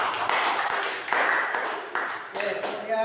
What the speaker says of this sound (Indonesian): Untuk semua kelompok yang sudah tampil, kita beri tepuk tangan semuanya.